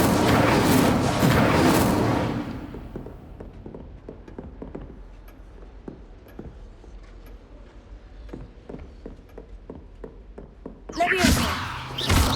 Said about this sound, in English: 吼吼烧是一种重伤害咒语，可在短距离内释放出毁灭性的火焰。